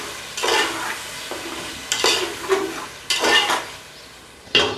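Tomato paste cooking in a pan for a potato and chicken curry, with bursts of sizzling and scraping as it is stirred, rising and falling in several strokes, close and alone.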